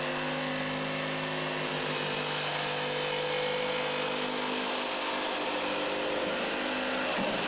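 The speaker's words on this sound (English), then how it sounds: "The easy way to cut this out is to use a jigsaw." A jigsaw cuts out a door opening in a boat's bulkhead, buzzing loudly and continuously at close range with a steady tonal drone throughout.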